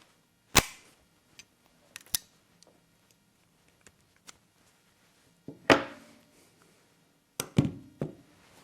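Beretta 93R pistol shots, sharp cracks spaced irregularly, including a quick group of rapid shots near the end, between faint mechanical ticks and clicks.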